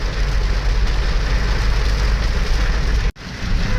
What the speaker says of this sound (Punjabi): ਵਾਓ ਬਾਰਿਸ਼ ਦੇਖੋ ਓਹ ਹੋ ਕੁਝ ਵੀ ਦਿਖ ਨਹੀਂ ਰਿਹਾ ਕਿੰਨੀ ਤੇਜ਼ ਆਈ ਆ ਅੱਜ